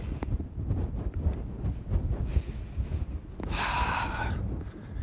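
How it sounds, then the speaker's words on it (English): Wind buffets the microphone in heavy low rumbles and gusts, joined near the end by a brief whistling, breathy tone. "Whew, it's windy."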